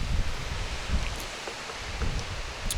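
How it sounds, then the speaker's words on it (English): Steady outdoor wind with low rumbling gusts buffeting the microphone, plus faint rustling, continuous throughout with no one talking. "It's a bit windy, but you know, it's what it is."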